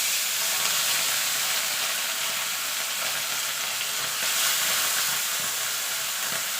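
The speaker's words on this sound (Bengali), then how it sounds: "এবার একটা একটা করে মাছ ছেড়ে দেবো।" Pieces of bhola fish sputter in hot oil in a kadai, a loud, dense and continuous frying hiss heard up close, with no talk over it.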